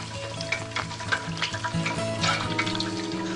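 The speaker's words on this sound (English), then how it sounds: "keep our oil hot and make sure you get the right results when you're frying" Chicken deep frying in hot oil, sizzling and bubbling with crackling pops over a steady fry, close up and fairly loud, no voices.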